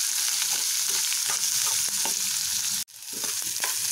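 Grated radish frying in a pan with oil for Kannada-style mullangi chutney, a steady close sizzle with stirring scrapes throughout and a brief dip near the end, no voices.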